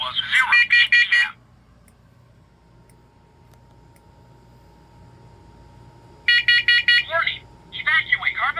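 A smoke and carbon monoxide alarm system under test sounds rapid bursts of shrill beeping, falls to a quiet hum, then resumes beeping alongside a synthetic voice announcement.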